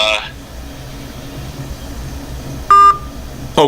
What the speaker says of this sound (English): Okay, so I got hung up on.